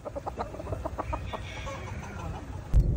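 Hens cluck in a poultry farm coop, a close series of rapid clucks and calls in the first half, followed by softer background clucking and a brief thump near the end.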